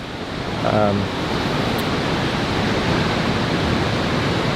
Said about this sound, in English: take a little break from the noise of the creek. It's really, really loud.